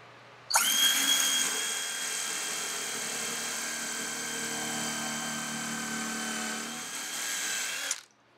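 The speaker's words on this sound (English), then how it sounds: "We are going to make pilot holes." Power drill boring pilot holes in a Restore-salvaged shop cart, a steady loud whine held for about seven seconds after a sharp start, then cut off abruptly.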